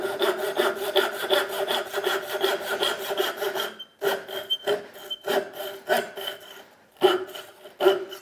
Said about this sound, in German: ich säge jetzt erstmal zu mir